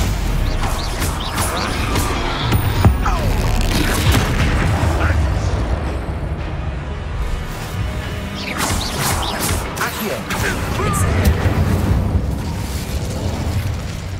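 Spell explosions from Bombarda and Confringo in Hogwarts Legacy, a dense run of booming blasts and crashing bursts over steady game noise and music, with a voice calling out spell names throughout.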